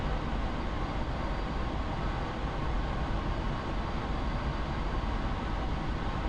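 An A-4E Skyhawk jet engine held at full throttle in a flight game, a steady loud roar with a broad rushing hiss that stays constant throughout, no voices.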